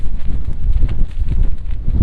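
Strong wind buffets the microphone outdoors at Styhead Tarn in the Lake District, with a constant low rumble and gusty bursts, loud and close throughout.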